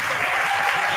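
Audience applause at a university English-language debate grand final, a dense, steady clapping wash from a full room lasting throughout without a break.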